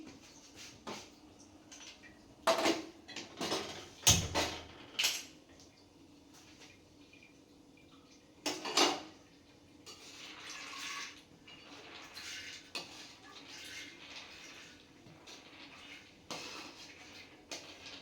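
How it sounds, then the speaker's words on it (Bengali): Chana dal being set on to boil: water splashing and running into a pot, with clanks of metal cookware and scattered sharp knocks, close and fairly quiet, with no talking. "এবার আমি ছোলার ডালটা সিদ্ধ করতে দিচ্ছি।"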